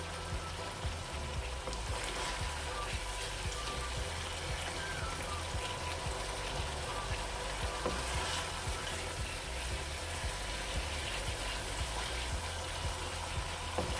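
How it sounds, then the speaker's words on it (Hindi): Masala roasting in a pan for an aloo methi sabzi, a soft continuous sizzle with occasional light scrapes of stirring, steady and moderately quiet throughout. "अब इस मसाले की हम बुनाई कर रहे हैं।"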